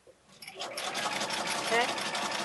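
A domestic sewing machine runs steadily as it stitches across a quilt border seam, a continuous buzzing whir that starts after a brief pause, close and fairly quiet.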